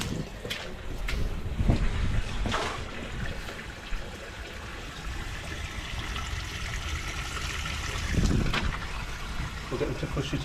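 Water flowing freely through a freshly unblocked drain gully in a courtyard, a continuous gushing and trickling wash with occasional knocks and bumps, close and fairly loud throughout.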